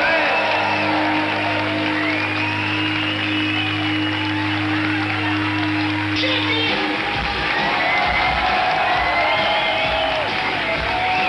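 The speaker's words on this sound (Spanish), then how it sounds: "¡Un aplauso para él!" A crowd at a comedy night for Joaquín Reyes bursts into steady applause with whoops and cheers, loud and continuous, shifting to a looser roar of clapping and shouts partway through.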